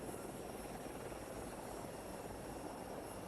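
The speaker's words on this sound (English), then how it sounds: "And there's a helicopter with the president and Governor John Bel Edwards in there." Helicopter carrying the president and a Louisiana governor during Hurricane Ida aftermath coverage, a steady droning rotor and engine roar at moderate distance, continuous and even throughout with no talk.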